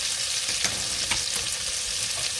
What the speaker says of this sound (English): So as this is cooking, you hear it pop.